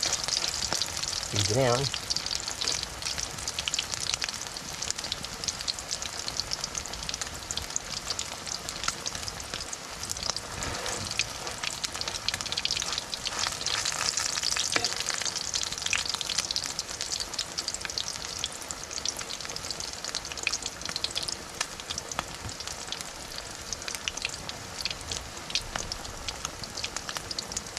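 Anchovies (dilis) fry in a pan with a steady, dense sizzle and crackle throughout, close and continuous, with a few brief words spoken over it.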